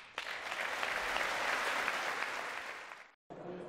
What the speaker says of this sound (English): The applause there.